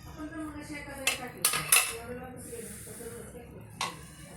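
A pressure cooker holding cowpea rice is opened, with sharp metallic clanks of the lid and utensils, then a soft rush of escaping steam and a final clink, all close by.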